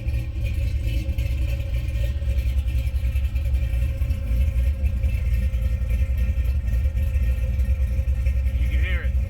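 A 1984 K10 truck's swapped LS V8 engine, untuned and with a new exhaust, idles with a steady, deep, rumbling burble, close and continuous throughout.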